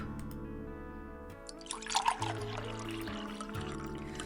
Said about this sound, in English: you pour yourself a cup